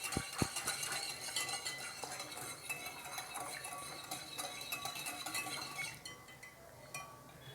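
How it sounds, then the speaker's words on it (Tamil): Cake batter with sunflower oil stirred in a bowl for an eggless, no-oven cake, a steady scraping and swishing with frequent light clinks of a spoon against the bowl, close and continuous. "இதை நல்லா மிக்ஸ் பண்ணிடுவோம்."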